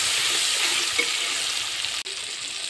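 Turmeric and salt are stirred into a tomato-based paneer curry in a pan, giving a steady, moderately loud wet sizzle with a faint scrape and one brief dip near the end.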